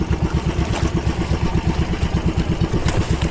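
A fishing boat's engine runs steadily up close, its low, rapid, even chugging pulse unbroken and loud throughout with no talk; the motor is overheating and losing compression.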